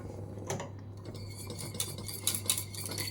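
A utensil scrapes and clinks against a pot while homemade béchamel with nutmeg is stirred, faint irregular ticks and scrapes over a low steady hum, close by and quiet.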